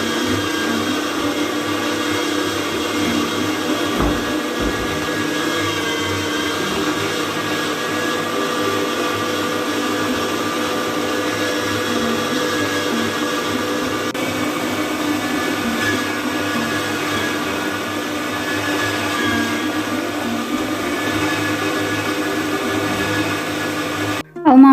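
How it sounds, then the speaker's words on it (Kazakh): An electric meat grinder minces apples through its finest plate, a steady loud motor whine with constant hum running unbroken for about twenty-five seconds, ending with a brief clunk. "Алмамызды енді ет тартқыштың ең ұсақ тісінен өткізіп аламыз."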